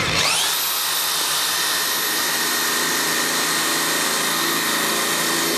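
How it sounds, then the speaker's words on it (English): A power drill spins up on an inverter while a kettle also runs, a loud steady high-pitched whine starting abruptly and holding constant throughout. "we'll now try and use the drill at the same time"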